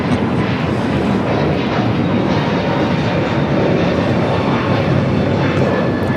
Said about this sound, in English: This is United Airlines 2061 taking off to Denver, Colorado on the A321neo